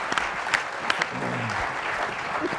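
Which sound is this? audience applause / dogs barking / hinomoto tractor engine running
audience applause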